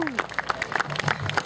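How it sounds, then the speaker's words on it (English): Audience applause for a student called up at a kids' martial arts demonstration during a community festival, a brief burst of scattered clapping from a crowd with light murmuring mixed in. "let's get a round of applause for Anders"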